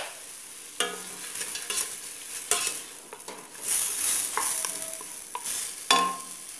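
Chicken feet sauté in a pan with salt being stirred in, a soft continuous sizzle broken by scraping stirs and clinks of a utensil against the pot.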